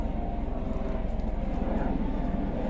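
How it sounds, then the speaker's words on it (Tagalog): Aircraft engine drone passing overhead outdoors near a waterway, a steady, fairly loud rotor-like rumble holding for the whole stretch with no talk over it. "Hoy, may helicopter. May helicopter."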